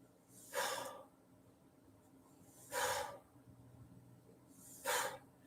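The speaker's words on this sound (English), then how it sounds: "I actually do those breathing sounds out loud like that, like a sort of like a heavy exhale" Three heavy, forceful exhales, spaced about two seconds apart, breathed out loud to calm a panic attack; each is a close, breathy rush of air with quiet pauses between.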